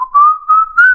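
A single person whistles a sustained, slightly rising tone, loud and close, swelling in three soft pulses over about a second, alone without speech.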